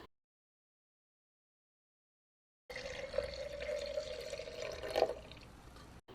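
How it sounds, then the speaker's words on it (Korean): Brewed black tea poured into a sterilized glass jar after a long silent stretch, a soft steady liquid stream with a brief splashy peak near the end, close and quiet. "끓인 물에 홍차티백을 넣어 20분에서 30분 정도 우린 후 소독한 유리병에 부어주세요"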